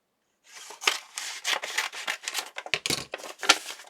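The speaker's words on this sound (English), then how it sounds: "Let me just cut this open." Scissors snip through packaging in a craft setting, a quick run of close, crisp cuts and rustles following one another after a brief silence.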